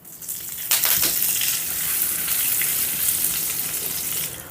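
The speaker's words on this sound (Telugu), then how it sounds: "తాలింపు వేగిందండి" A tempering of mustard seeds, cumin, dried red chilli pieces, asafoetida and curry leaves sizzling in hot oil for a gongura chutney, a steady crackling fry with a few sharper spits, fairly quiet and without talk.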